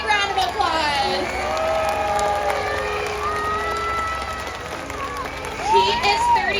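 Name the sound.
audience applause at SeaWorld orca show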